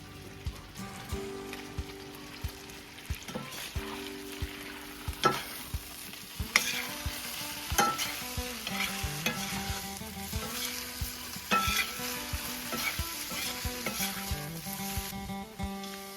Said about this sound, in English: Hear that sizzle? That's the sound of happiness.